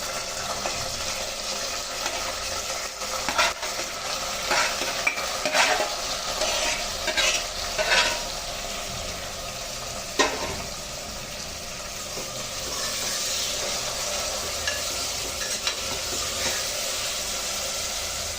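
Onions sizzle and fry in a pan with mint and masala spices for a vegetable pulao, a steady close hiss broken by stirring scrapes throughout.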